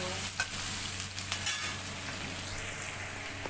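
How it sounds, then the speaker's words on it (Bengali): Onions fry in an iron wok with a steady, dense sizzle that holds evenly throughout, close and moderately loud, with no talking over it. "একদিকে করলা বসিয়ে দিয়েছি, পেঁয়াজ ভাজছি"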